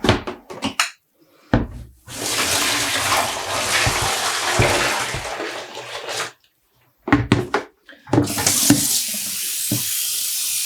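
Water gushes from a tap while freshly black-dyed yarn is rinsed at home, loud steady runs broken by short pauses, squelches and knocks as the wet yarn is handled.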